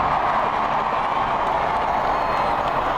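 A dense, steady roar of a large crowd packed along the Mall before the royal wedding balcony appearance, cheering and shouting continuously as one broad wash of voices.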